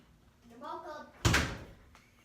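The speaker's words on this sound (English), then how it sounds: "Hey, shut the door." An indoor door is pushed shut with a single solid thud that lands right after a few spoken words, then the room goes quiet.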